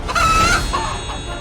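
Chicken clucking in a short, loud burst of two or three clucks, close and alone.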